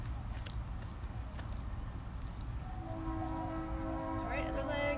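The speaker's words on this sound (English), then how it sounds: "There's the train this morning." A train goes by in the morning, its low rumble carrying from a distance before a long horn sounds out in the second half, with faint breathy sounds nearby.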